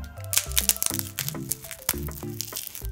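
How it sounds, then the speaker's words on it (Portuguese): A glass screen protector on an iPhone 12 Pro Max cracks and crunches in a rapid run of sharp, close snaps and crinkles, with short musical tones in the background. "está a cair o vidro todo"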